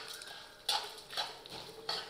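Chana dal, urad dal, a large piece of cinnamon and peppercorns are stirred in a pan over low heat, giving soft scraping rustles and a few distinct metallic clinks of a spoon against the pan.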